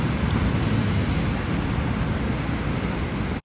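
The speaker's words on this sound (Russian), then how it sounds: "Держите 30 секунд море, мои дорогие" Sea waves wash in a dense, loud, steady roar of surf, close by and unbroken, with no voices, cutting off abruptly at the end.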